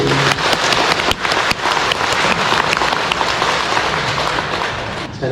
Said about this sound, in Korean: 박수로 환영해 주시고.